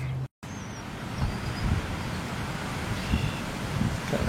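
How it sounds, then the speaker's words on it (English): Outdoor wind blows steadily and loudly, a constant rushing roar that buffets the microphone with occasional stronger gusts and a brief dropout near the start. "Kind of windy today."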